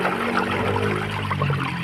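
A 250 W, 12 V stainless spin aerator runs in a bucket of water, producing a loud, constant churning rush with a low motor hum beneath and no talk.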